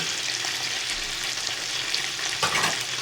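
Cashew nuts tossed into hot oil in a frying pan while cooking mutton dum biryani, a steady close sizzle and crackle with a brief stirring scrape near the end.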